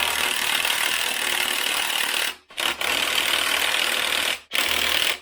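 An impact wrench hammers at the six bolts around the edge of a Subaru engine case on a go-kart, loud and close in two long sustained rattling bursts and a short third one, separated by brief silences.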